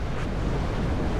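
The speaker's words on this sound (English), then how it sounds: "Look at the waves that side." Atlantic Ocean waves heard from a moving car, a continuous broadband roar of surf blended with wind and road rush, steady and fairly loud with no voices.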